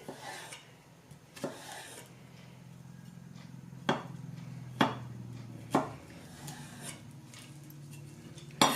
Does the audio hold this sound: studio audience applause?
no